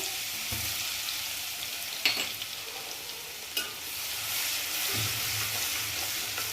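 Garlic sizzles steadily in hot oil over toasted cumin and mustard seeds, with a constant crackle broken by a couple of sharp utensil clinks; no one speaks.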